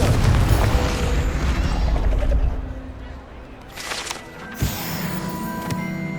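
A Confringo fire spell blast in Hogwarts Legacy goes off with a heavy low boom that rumbles and then fades. Another burst follows near the end of the clip, with game effects around it.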